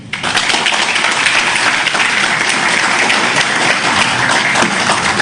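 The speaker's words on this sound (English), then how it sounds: "Request all of you to give him a warm round of applause for this momentous announcement." A large crowd applauds a Google data center announcement in Andhra Pradesh, India, with dense, loud, sustained clapping that keeps going steadily throughout, without a break.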